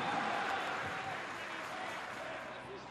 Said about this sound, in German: Viel Applaus für dieses Comeback und natürlich auch für den Führungstreffer in der 59. Minute